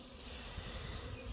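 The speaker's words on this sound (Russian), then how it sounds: "Представляю, такое количество пчелы на облете." Honeybees on an orientation flight at a forest apiary make a faint, continuous buzzing drone, steady and distant, with no voices over it.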